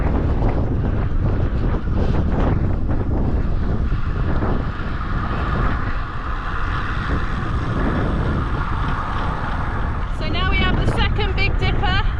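Strong headwind roars across the microphone of a cyclist riding a hilly time trial, a continuous buffeting rush that stays loud throughout, with a rider's voice speaking over it.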